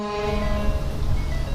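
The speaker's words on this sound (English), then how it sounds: "There's 2 Grover stutter tone air horns." A brief blast of two Grover stutter tone air horns on a Darley fire truck, loud with a harsh, layered tone, heard up close over a low rumble.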